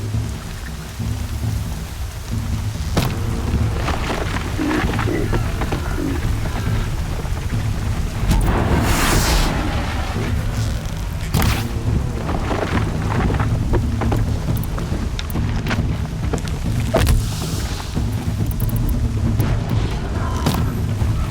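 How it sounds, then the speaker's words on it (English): Heavy rain pours steadily in Horizon Zero Dawn, with rolling thunder booms and sharp cracks breaking through several times over about twenty seconds, and no voices. "Raining like it's trying to wash everything away."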